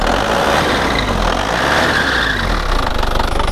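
A big SUV's engine runs loud and close throughout, a steady mid-pitched drone that swells slightly as it is revved, with a rougher pulsing in the last second.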